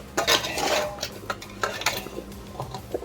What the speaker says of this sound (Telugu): నేను ఇప్పుడు పెసరావ కొరకు నాలుగు గ్లాసుల ముక్కలు తీసేసుకుంటున్నాను